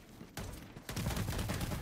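Rapid gunfire in the video game Helldivers II, with bursts of shots firing at the players. It sounds moderately faint and grows denser after a short gap.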